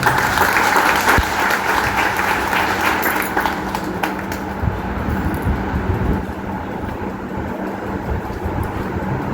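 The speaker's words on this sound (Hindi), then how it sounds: "आइए हम तालियां बजाकर उनको" A church congregation applauds to welcome a speaker at a Christian worship gathering: dense, sustained clapping from many hands fills the space, steady and loud throughout, slowly easing slightly toward the end with no voices over it.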